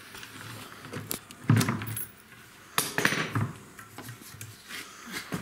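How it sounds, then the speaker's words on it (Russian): Metal clanks and scrapes come from inside an LG washing machine as the counterweight bolts are undone during a drum bearing replacement. The knocks are close and irregular, with quiet gaps between them and no talk. "Вот финальная часть откручивания груза."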